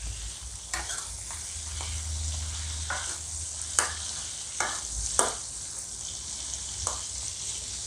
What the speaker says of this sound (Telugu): చేపని అటు ఇటు తిరిగేయాలి, నూనెలో మంచిగా వేగాలి.